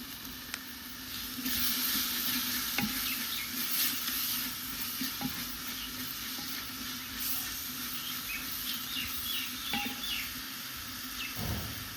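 Steady crackling sizzle of tempering spices frying in hot oil in a handi over a chulha, with occasional sharp pops and clinks, close and continuous.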